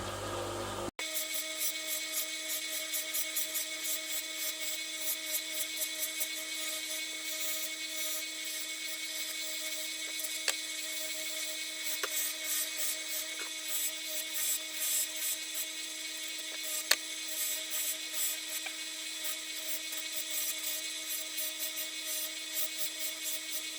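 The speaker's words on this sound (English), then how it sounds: "So I'm using Josco iron oxide buffing compound" A motorized buffing wheel polishing a metal tritium ring with iron oxide compound gives a steady, high, whining hum that runs unbroken for over twenty seconds, with a couple of brief sharp ticks and no talking.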